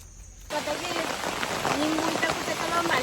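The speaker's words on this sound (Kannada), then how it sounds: "ಮತ್ತೆ ಸ್ಟಾರ್ಟ್ ಆಯ್ತು ಮಳೆ" Steady rain begins abruptly and keeps pattering on a surface, a dense, even hiss with scattered drop sounds.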